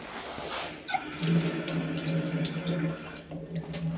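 Water running from a tap over a bicycle tyre to wet it, a steady close splashing rush lasting throughout with a brief louder gush near the start and a slight change toward the end.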